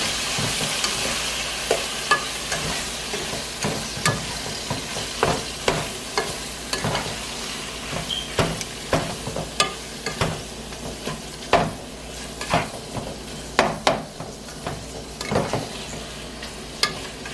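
Seasoned ground beef fries in a pan under a steady sizzle while a spatula scrapes and taps it in repeated, roughly regular strokes, close and fairly loud throughout.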